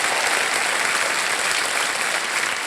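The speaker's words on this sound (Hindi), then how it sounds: "तो एक बार फिर तालियों के साथ हम आपका अभिनंदन करते हैं।" A studio audience at a televised quiz show claps in sustained, dense applause that stays even and loud throughout, with no voices standing out.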